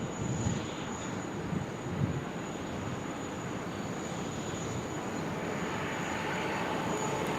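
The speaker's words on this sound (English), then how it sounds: "it looks like we've got a Virgin 737 arriving" A Virgin Boeing 737 airliner arriving at Sydney Airport, heard as a steady, fairly distant jet engine roar with wind rumble, holding an even level throughout with no talk.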